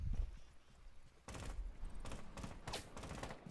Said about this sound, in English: It's a buck who's shooting.